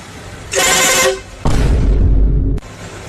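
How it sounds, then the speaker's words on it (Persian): A car horn sounds in two loud blasts, a shorter bright honk followed after a brief gap by a longer, rougher one that cuts off abruptly, with no talking over it. "یه بوق بزن لطفا"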